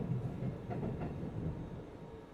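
E259 Narita Express train in the Densha de GO railway game rumbles past at moderate volume near Harajuku Station on the Yamanote line, a steady low roll with faint rhythmic clacks.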